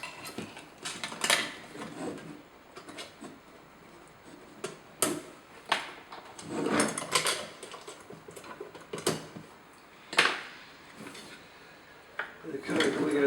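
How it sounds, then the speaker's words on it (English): Grub screws are loosened and springs removed from a Tapepro drywall flat box, giving scattered metallic clicks, taps and clinks up close, with a person talking throughout. "undo the grub screws and open the lid. Remove the springs"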